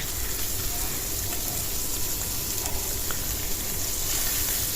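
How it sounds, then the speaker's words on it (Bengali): Tengra fish coated in turmeric, chilli, green chilli, onion and salt fries in oil with a continuous bubbling sizzle, fairly loud and close. "এখানে হলুদ, মরিচ গুঁড়ো কম দিচ্ছি, কাঁচামরিচ, পেঁয়াজ, লবণ দিয়ে তেল দিয়ে মাখায় কষাচ্ছি"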